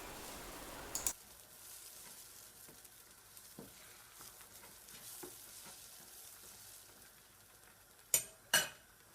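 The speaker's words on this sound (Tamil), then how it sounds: "எண்ணெய் காஞ்சதும் நம்ம அடித்து வச்சுருக்கிற முட்டை கலவையை அதில் ஊற்றி ஒரு 2 நிமிஷம் அப்படியே முட்டை பொரியல் வதக்குற மாதிரி" Beaten egg mixture poured into hot oil and scrambled in a pan, giving a steady soft sizzle with faint stirring scrapes and a couple of sharp utensil clinks on the pan near the end.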